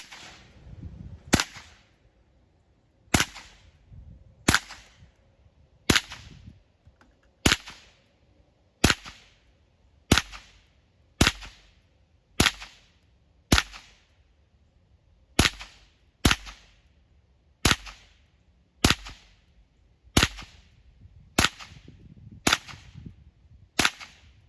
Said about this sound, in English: So what we're gonna do is we're gonna flip it sideways now and we're gonna shoot it again.